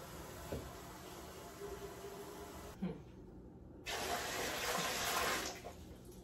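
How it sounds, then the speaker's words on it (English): Tap water runs steadily into a home canning pot, filling it with about three quarts during kitchen prep for canning. The flow is a continuous hiss that briefly drops away, then returns louder. "my canner takes 3 quarts of water"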